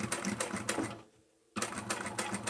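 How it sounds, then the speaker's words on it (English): A sewing machine stitching a seam on a bag runs in rapid mechanical bursts, pausing for about half a second before resuming its fast, even chatter, close and clear. "And I'm going to continue sewing until the next dot."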